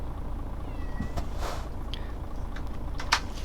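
A house cat meows indoors with drawn-out, rising and falling calls that sit over a steady background hum, fairly close and moderately loud.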